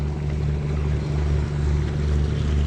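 An express boat passes the pier of Chaloem Phrakiat Temple in Nonthaburi, its engine a loud, continuous low rumble mixed with water churn and wind, with no speech.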